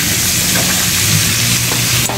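Pancit miki guisado noodles being stirred and fried in a pan, with a steady loud sizzle and scraping stir strokes throughout, close up and with no talk.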